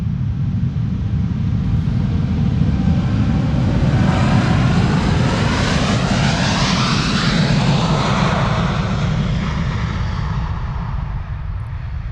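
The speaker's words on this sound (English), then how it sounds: "Whenever the airplanes are turning towards us, you immediately start hearing the engines." Airplane jet engines roar loudly and continuously during departures at Amsterdam Schiphol Airport, with a whining tone sweeping across as the aircraft turns toward the listener.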